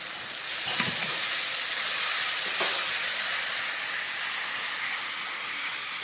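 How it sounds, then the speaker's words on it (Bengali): Spice paste stirred and fried in a pan for Kashmiri pulao, with cashews in the mix, giving off a loud, steady hiss and sizzle close by, broken by a couple of soft scraping strokes and no voices. "এবার ভালো করে মশলাটা সবসময় নাড়িয়ে কষতে থাকবে।"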